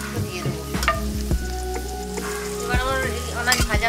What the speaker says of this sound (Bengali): এখন আমি একটু তেলে দিয়ে কাঁচা লঙ্কা দুটো দিয়ে দেবো।